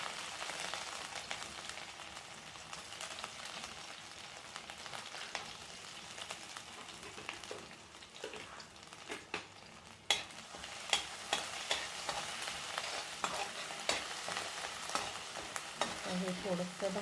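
Garlic and ginger fry in hot oil for Hakka noodles, a soft steady sizzle with occasional stirring clicks and scrapes that grow a little busier toward the end.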